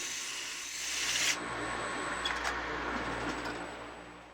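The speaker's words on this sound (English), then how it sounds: "Now the sanding begins to clean up the surface of the club in preparation for varnishing." A steady, close rasping rub of sandpaper on a wooden Indian club, continuous for a few seconds, fairly quiet with a brief brighter scrape partway through.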